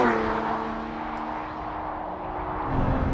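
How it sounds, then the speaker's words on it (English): A Lotus Emira's V6 heard from inside while driving, a steady smooth whooshing drone with a faint tonal hum that swells slightly near the end, no talking. "This V6 whooshes where the 4-cylinder grumbles."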